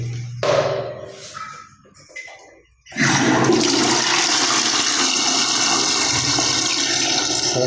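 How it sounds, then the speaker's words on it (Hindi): A porta commode toilet tank is flushed after a few soft knocks and clicks, then water rushes out loudly and keeps gushing steadily to the end. "अब इसको मैं फ्लश करूँगा।"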